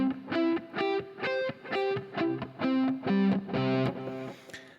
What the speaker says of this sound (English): So this chord played as an arpeggio sounds like this.